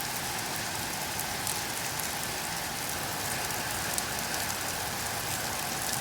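A downpour hammers the ground during a storm in West Mifflin near Pittsburgh, a dense, steady hiss and patter of very heavy rain, loud and close, continuing evenly without any talking.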